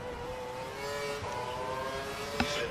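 Race car engine from the F1 2012 video game at Marina Bay, Singapore: a steady, high droning whine with layered harmonics that holds throughout, ending with a brief sharp transient.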